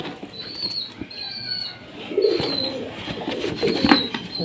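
Pigeons being handled for delivery coo in low throaty calls while wings flap in short bursts, close by, with a few sharp chirps above the steady background.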